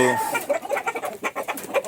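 A Serama chicken, a very small breed, gives a quick run of short clucks on a farm, close and fairly loud, with a voice briefly in the background.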